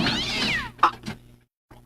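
A cat up on a house roof lets out a drawn-out, wavering meow followed by a short sharp cry, close and fairly quiet, then silence.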